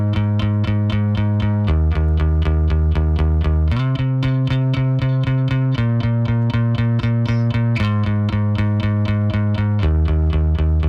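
Fender Mustang bass in a studio, played with a pick through a chorus effect: steady, evenly repeated eighth-note plucks shifting between a few low notes, loud and up close.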